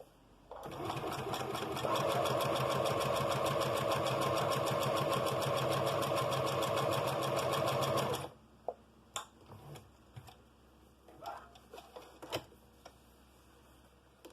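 A Singer P-1250 sewing machine runs test stitches in a fast, steady mechanical chatter that continues unbroken for about eight seconds, then stops, leaving a few soft handling clicks and taps.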